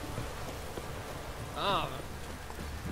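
Rain falls steadily in The Witcher 3: Wild Hunt near a castle, a soft continuous patter and wash filling the background, briefly joined by a voice.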